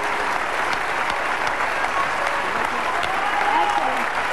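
Loud, sustained applause at an Italian motor sport award ceremony, with a voice speaking faintly beneath the clapping.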